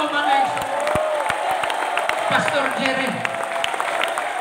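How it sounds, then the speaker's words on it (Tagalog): A church congregation at a district conference service claps together in a steady spatter of applause, with a voice speaking over it. "Palakpak sa Ginoo mga isa."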